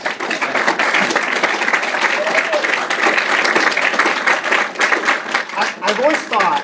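Dense audience applause welcoming a speaker at a science seminar, sustained rapid clapping from a room full of people at full volume, continuing for several seconds with a few voices mixed in.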